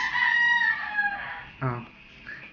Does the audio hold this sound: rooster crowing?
yes